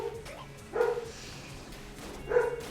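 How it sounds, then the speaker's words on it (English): A dog barks twice, short close barks about a second and a half apart, heard alone over a quiet room background. "Why is that dog barking?"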